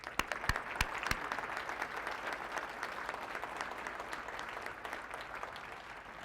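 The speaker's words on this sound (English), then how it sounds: "So I just want to give a round of applause" An audience at an awards ceremony breaks into applause, a few sharp claps at the start giving way to steady, moderately soft clapping that carries on to the end.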